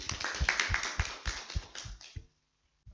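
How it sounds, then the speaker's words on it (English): Scattered, fairly close hand claps from a small audience at a women and girls in science event, rhythmic and uneven for about two seconds, then stopping abruptly into silence. "So please, another round of applause to your lecturers."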